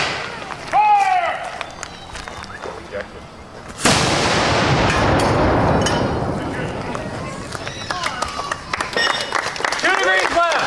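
At a Yorktown battlefield reenactment, an artillery cannon fires one sudden, heavy boom that rolls out into a long fading rumble. Shouted voices come before and after the shot.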